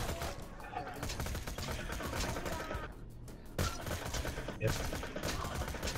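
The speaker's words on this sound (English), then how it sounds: "This gun that I'm holding has 179 rounds. And it fires 3 per shot." Borderlands auto rifle firing three rounds per shot, a dense, continuous stream of rapid gunfire that runs nearly the whole time with brief gaps, while a person briefly speaks over it.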